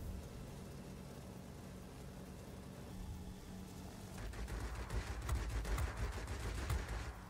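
Gunfire aimed at a plane in World of Warplanes, a rising clatter of rapid shots from mid-clip that grows louder and denser over a steady engine drone.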